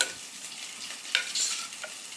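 A spoon mashing and stirring cooked lentils for dal in a pot, soft wet scraping and squelching strokes, close and fairly quiet, with no voices.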